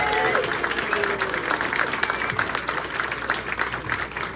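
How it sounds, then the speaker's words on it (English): Loud applause from a speedway crowd for the British champion, sustained clapping and cheering that rolls on steadily throughout, with an announcer's voice briefly audible beneath. "Let's hear it for Dan Bewley, the British champion!"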